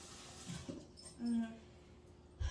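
One short, soft puppy whine rises out of a quiet kitchen, faint and brief.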